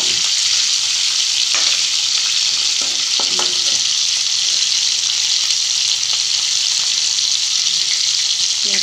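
Pork sizzles steadily in its own rendered fat in a pan, with no added oil; a dense, even frying hiss runs throughout with occasional small pops and utensil scrapes.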